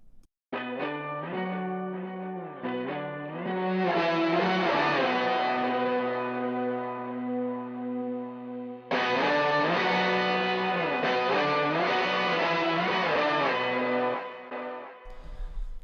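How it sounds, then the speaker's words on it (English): A distorted electric guitar through a distortion pedal and amp plays sustained chords and ringing notes, loud and close, with a brief pause and restart midway and no voices. "your guitar goes into the pedal, into the amp, and it sounds good"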